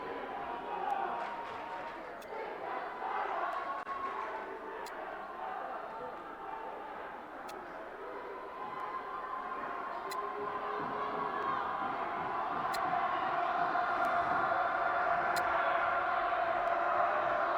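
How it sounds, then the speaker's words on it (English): A boys high school basketball crowd roars in a gym, a dense wash of cheering and shouting that swells louder toward the end, with sharp squeaks and thuds on top and an announcer talking over it. "A lot of crowd noise here."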